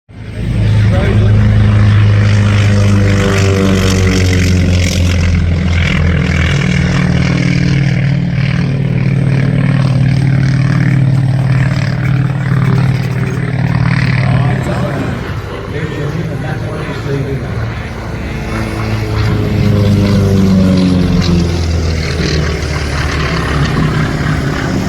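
A Grumman propeller aircraft makes a pass at an airshow, its engine and propeller drone loud and sustained as the pitch sweeps and fades slightly midway before swelling again, with commentators talking over it.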